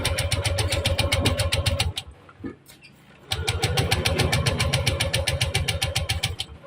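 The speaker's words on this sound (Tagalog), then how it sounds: "Ikot lang ng ikot yung kanyang magneto pero hindi umaandar yung makina" A Yamaha Aerox motorcycle engine cranks with a rapid rhythmic chugging that never catches, pauses briefly, then cranks again, loud and close.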